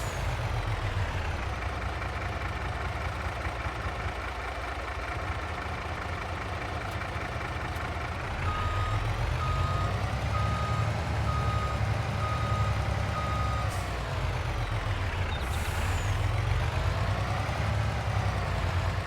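Steady electronic reversing beeps from a truck in Farming Simulator 22, repeating evenly over a continuous engine idle and drone, with no talking.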